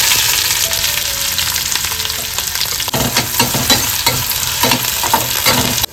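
Garlic, curry leaves and chopped onion sizzle loudly in hot tempering oil for a seafood curry gravy, a dense crackling hiss with stirring scrapes later on and no talking.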